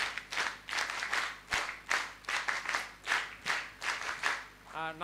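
A group of scouts at a training course claps together in loud, rhythmic bursts, the beat repeating about twice a second with short pauses, with a voice heard briefly at the very end.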